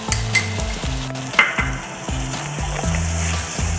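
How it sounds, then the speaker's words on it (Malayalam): Chili, coriander and garam masala frying in a pan, a close steady sizzle with repeated scraping strokes of a spoon stirring the spices, no voices. "ഇനി മുളകും മല്ലിയും ഗരം മസാലയും ഇതിൽ കിടന്നൊന്ന് മൂത്ത് പച്ചമണം പോകുന്ന സമയത്ത്"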